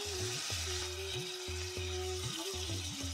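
Goat lungs sizzle and fry in a pan while a utensil stirs and scrapes them in repeated strokes, close and steady, with no voices.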